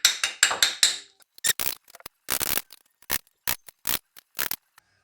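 Small taps seat an oil pump seal during a timing belt job on a 2002–2010 Toyota Highlander: about a dozen crisp, close metallic knocks, first in a quick cluster, then spaced out with short pauses and no voices.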